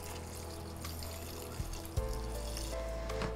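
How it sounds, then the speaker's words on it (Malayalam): Water, half a cup, poured into a raw green mango masala mixture for a soda drink, a steady close pour with a couple of soft clinks near the end. "ഒരു അര കപ്പ് വെള്ളം കൂടി ചേർത്തിട്ട് ഇതൊന്ന് ബീറ്റ് ചെയ്യാം"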